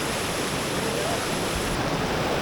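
Clear river water in Roing, Arunachal Pradesh, rushing in a steady broadband wash, close and continuous with no break.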